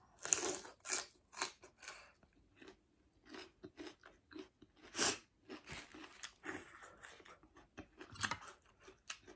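Papaya salad being pounded in a mortar, a string of irregular crunching, knocking strikes at close range, some sharp and loud, with brief pauses between them and no talking.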